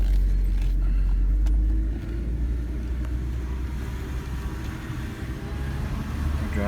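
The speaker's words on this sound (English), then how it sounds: "We're driving." Steady low car engine and road rumble from inside a moving vehicle, loud and continuous, easing slightly after the first two seconds, with no talk.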